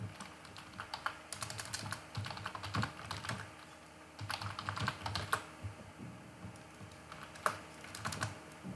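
Steady computer-keyboard typing while setting up a virtual Apache, PHP and MySQL web server on Ubuntu: clustered bursts of quick key clicks with short pauses between, close and moderately loud, no voices.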